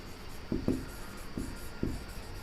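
A sentence is written out by hand, heard as a few soft scratchy pen or marker strokes in short separate bursts against a low background hum, close and faint.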